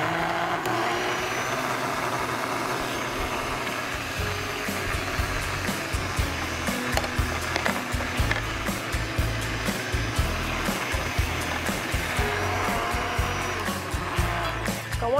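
Kitchen blender running on watermelon during a cooking class, a continuous loud motor whir with a rattling churn that roughens and pulses partway through, with no voices.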